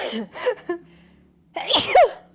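A single sharp sneeze bursts out near the end, preceded by a few short voiced breaths and vocal sounds, then a brief trailing exhale.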